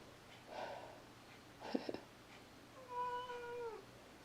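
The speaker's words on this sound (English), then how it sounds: "my cat" A cat meows indoors, faint and close: a short muffled call, a rough snort-like sound, then a longer drawn-out meow that bends down in pitch, over quiet room hiss.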